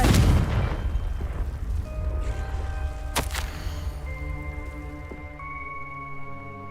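Confringo explosive spell in Hogwarts Legacy, a heavy booming blast that rolls and fades, then a sharp crack and ringing magical tones that linger to the end.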